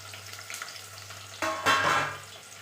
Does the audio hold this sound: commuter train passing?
no